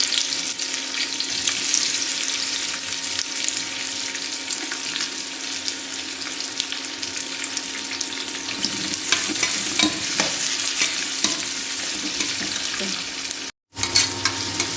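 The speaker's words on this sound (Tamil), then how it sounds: "வெங்காயம் நல்லா பொன்னிறமாக வர்ற வரைக்கும் நல்லா ஃப்ரை பண்ணிக்கோங்க" Chopped onions frying and being stirred in hot oil with cinnamon and cardamom for Chennai-style chicken biryani, a steady close sizzle with spoon scrapes running throughout, cut by a brief silent gap near the end; no one speaks.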